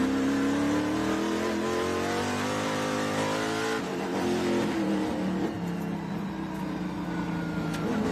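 TA2 race cars circling a road course, with loud engines revving and shifting as several cars pass close by in a continuous, overlapping roar.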